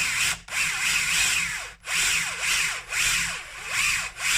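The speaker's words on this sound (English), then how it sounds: "use a little sanding disc to open it up a bit." A small rotary tool with a little sanding disc widens a hole in repeated strokes, its whine rising and falling in a steady rhythm with brief pauses, close and fairly loud.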